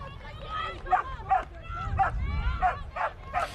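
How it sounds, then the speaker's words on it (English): A dog barks loudly off to one side at a women's ultimate frisbee match, a run of repeated sharp yips and barks in quick rhythm under a commentator's talk. "dog barks loudly towards our left"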